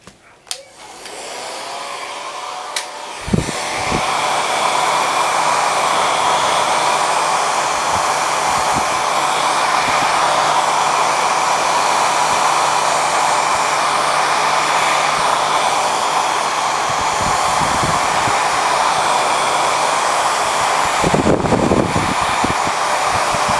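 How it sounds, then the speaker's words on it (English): A hair dryer on low setting blows with a steady, even whoosh over resin for most of the clip after a brief start, with a few small knocks and bumps along the way. "put your blow dryer on low, and then you want to lightly blow the bubbles out."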